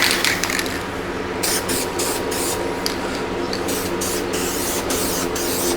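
A spray can lays a light dusting of guide coat over a sanded MGA car body, with a continuous close hiss that comes in short rhythmic pulses as the nozzle is pressed and released.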